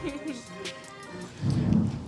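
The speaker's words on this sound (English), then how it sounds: "Thunder on the island." Thunder rumbles low and broad during a rainy outdoor concert on an island, swelling louder near the end, with rain hiss throughout.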